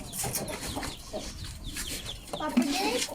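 Backyard chickens clucking and murmuring close by while being fed, short irregular clucks mixed with people talking nearby.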